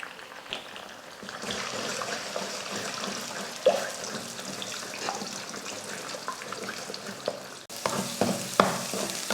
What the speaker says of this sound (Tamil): அதில் 3 முட்டையை போட்டு அதையும் வறுத்தரலாம்.